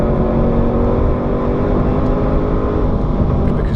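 A supercharged Jaguar car accelerates hard, its engine roaring loud and continuous with a steady rising drone throughout.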